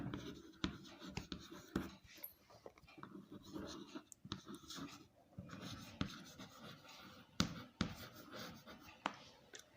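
A teacher writes on a classroom board during a maths lesson, giving faint, close scratchy strokes and sharp taps scattered irregularly through the clip.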